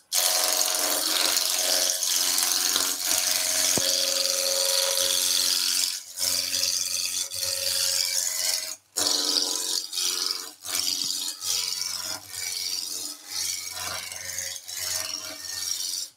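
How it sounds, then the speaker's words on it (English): Wood lathe gouge roughing down a staircase spindle toward the pommel, a close, continuous rasping cut with brief breaks and dips as the tool is repositioned, no talking. "I'm roughing down toward that pummel."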